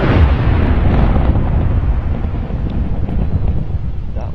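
A dud nuke detonates in the HBM Nuclear Tech mod for Minecraft, heard as a loud, continuous rumbling roar that fills the whole stretch, without talk.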